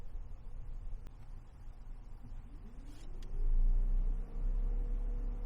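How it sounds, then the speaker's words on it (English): Three car radiator cooling fans switched on together through a bidirectional XTOOL A30-M scan tool whir up in the background, a rising tone over low rumble that steadies into a louder continuous drone partway through. "instead of turning on one fan or two fans, I'm going to turn on all three at once"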